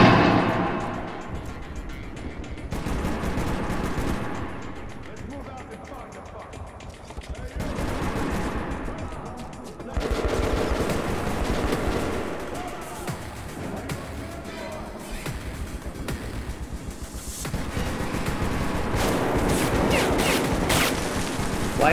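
Enemy gunfire in Metro 2033 Redux rattles in repeated automatic bursts across the whole stretch, loud and close, with a voice talking over the shooting at times.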